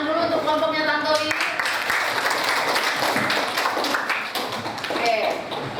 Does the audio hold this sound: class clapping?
yes